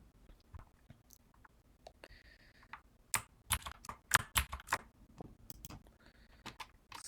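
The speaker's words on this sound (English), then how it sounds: "Here we can type the command." Commands being typed on a computer keyboard at a terminal: a run of close, crisp key clicks, sparse at first and then quicker and denser in the middle, heard alone without talk.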